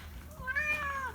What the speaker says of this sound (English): Yeah, the cats are waiting too.